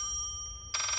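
A telephone rings inside the Layers of Fear horror game: a steady electronic tone holds at first, then a loud, dense burst of ringing breaks in near the end, close and clear with no talking over it.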